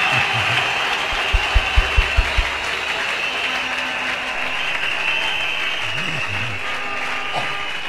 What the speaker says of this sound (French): Clap your hands and give God the glory.